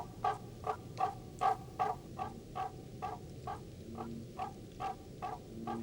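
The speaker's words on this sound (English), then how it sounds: "The explosive calls of the barking tree frogs sound like the yapping of small dogs." Barking tree frogs, a large native tree frog species, give a steady series of about a dozen loud, explosive croaking calls at a regular rhythm, close by, with softer background frog calls and no talking.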